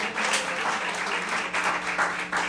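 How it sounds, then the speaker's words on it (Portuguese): A church congregation bursts into steady, dense applause, many hands clapping together in a continuous roar that swells slightly in waves, loud and close with no speech over it. "Aplaude esse Deus."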